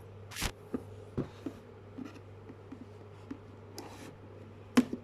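A toy pirate box package being cut open, with scattered sharp snips and scratchy cutting strokes, close and fairly quiet, spaced irregularly with a louder snip near the end, no talking.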